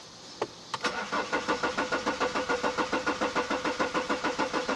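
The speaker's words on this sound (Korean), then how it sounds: "이거 일단 시동을 한번 해볼게요." A high-mileage BMW 520d F10 diesel cranks with a fast, even, rhythmic chugging after a couple of clicks, heard close and continuing steadily to the end.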